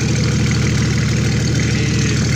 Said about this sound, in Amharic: አስነስተነዋል ሞተሩን።